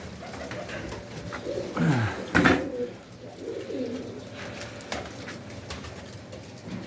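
Hungry poultry in a coop on an evening round, with soft cooing and bird calls rising around a louder burst of activity mid-clip, then a steady murmur of birds close by.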